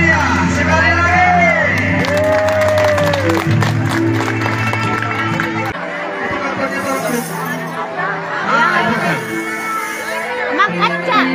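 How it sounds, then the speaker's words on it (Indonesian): Crowd at an outdoor kung fu dragon show for an Indonesian independence day celebration, with clapping, chatter and occasional shouts and whoops, loud and continuous, mixed with music tones early on. "Tepuk tangan yang meriah sekali lagi."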